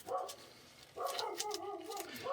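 Dogs barking indoors at a moderate distance, two bursts of excited barks and yips separated by a short lull, fairly faint overall.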